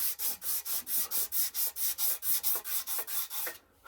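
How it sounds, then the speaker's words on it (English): Hand sanding the wooden stock of a Pedersoli Brown Bess musket makes brisk rhythmic back-and-forth strokes, about four per second, close and even, then stops briefly at the end. "I sand until my shoulder says it had enough."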